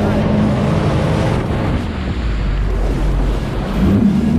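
A jet ski engine runs steadily on the water with a loud, low droning rumble and wind noise, close to the microphone and without a break.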